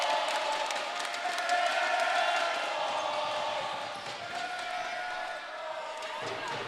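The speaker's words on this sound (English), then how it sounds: "The sweet chants of the air ball" An arena crowd at a men's college basketball gold medal game between VIU and Capilano chants steadily in unison, a broad sustained roar of many voices echoing through the gym.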